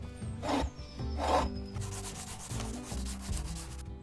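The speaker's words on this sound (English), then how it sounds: "With both hands free to hold the chisel, he can finally shave the rough wood down into the round piece he needs." A chisel shaves rough wood turning on a pedal-powered lathe, giving close rasping scrapes that swell in two strong strokes and then continue as a steady rubbing with a low rhythmic rumble beneath.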